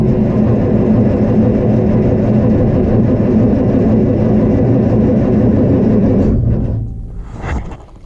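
A frozen diesel tractor engine runs outdoors at about 9°F, a loud, steady low rumble that winds down and dies out in the last couple of seconds.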